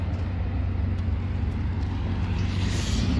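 A sold pickup truck pulling away, its engine a steady low rumble close by that swells slightly toward the end, with no talking.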